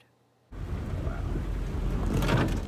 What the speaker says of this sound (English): parts of Toronto became unrecognizable, hidden by a downpour that suddenly engulfed the streets